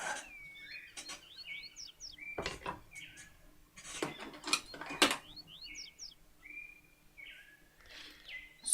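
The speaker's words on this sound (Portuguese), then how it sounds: "Sueli Gomes, essas canções de passarinho, é muito gostoso, faz bem ouvir" Small birds sing outdoors with repeated bright chirps and short whistled phrases, some in quick clusters, moderately close, mixed with occasional clicks and knocks.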